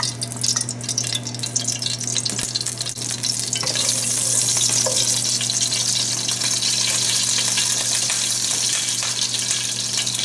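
Olive oil sizzling in a hot pan over medium-high heat, a steady, bright frying hiss close by that grows fuller after a few seconds, with a faint low hum underneath.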